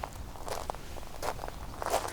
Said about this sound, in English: the footsteps on those particular rocks